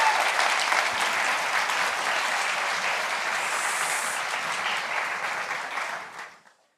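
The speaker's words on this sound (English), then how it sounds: "If we could all give our panelists one more round of applause" An audience at a closing conference session applauds panelists, a loud, full round of many hands clapping that holds steady, then quickly fades out to silence at the end.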